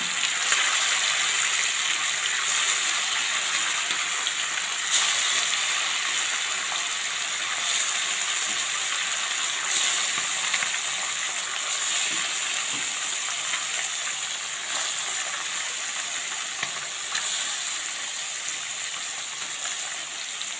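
A steady, loud sizzle of sole fish frying in hot coconut oil in a pan continues throughout, with occasional crackles and a few surges in intensity.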